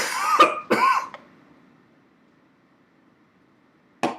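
Two sharp coughs close to the mic in quick succession, followed by silence and a brief third burst at the end.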